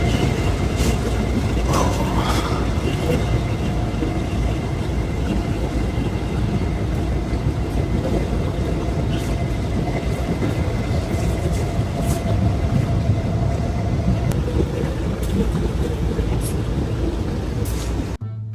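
A Singapore MRT metro train rumbles along at speed, a loud continuous roar and rattle from inside the carriage with faint squeals and no talking.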